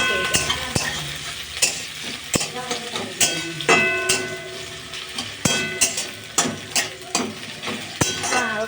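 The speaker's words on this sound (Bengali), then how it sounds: "এবার এই তিনটেকে ভালো করে নাড়িয়ে চাড়িয়ে নিতে হবে, যাতে একসাথে তিনটে মিক্স হয়ে যায়" Onions are stir-fried in a pan for chow mein, with a steady sizzle broken by repeated sharp scrapes and clinks of a spatula against the metal, close and fairly loud.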